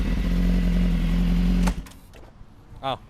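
A superbike engine idles with a loud, steady low rumble, then abruptly cuts out, leaving quieter clatter and a short whirring sound near the end.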